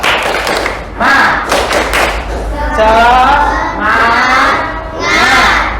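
A class of fourth-grade children in a classroom claps a rhythmic spirit clap in unison, loud and close, with several rounds of thumping claps punctuated by group shouts.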